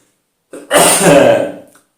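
One loud, close cough or sneeze bursts out suddenly and trails off over about a second, with silence before and after.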